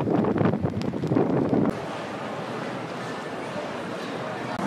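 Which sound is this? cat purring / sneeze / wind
wind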